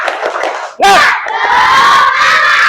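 A class of schoolchildren shouting the 'tepuk semangat' clapping chant in a classroom, a loud burst of group voices after a brief lull, with sustained crowd shouting.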